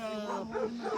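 Abandoned puppies about three months old give a short whining bark, with yips and whimpers close by.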